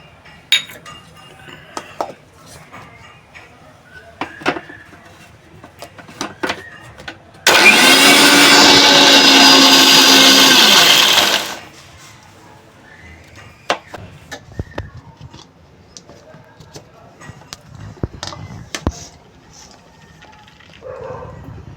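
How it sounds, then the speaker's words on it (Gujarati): A mixer grinder whirs loudly for about four seconds in one steady burst while grinding green chutney with salt and water, surrounded by quieter clinks and kitchen handling sounds. "અને થોડું મીઠું અને પાણી નાખીને ગ્રાઇન્ડ કરશું"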